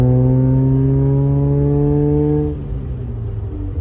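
Mazda FB RX-7 rotary fitted with a Racing Beat exhaust, cruising at partial throttle: a loud, steady droning hum with strong harmonics for over two seconds, then the note drops off to a quieter, rougher rumble.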